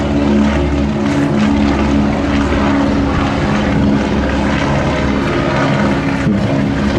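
The Fokker Trimotor Southern Cross II, a three-engined propeller airliner, flies past at an airshow, its piston engines giving a steady, loud, continuous drone with a low rhythmic propeller throb throughout.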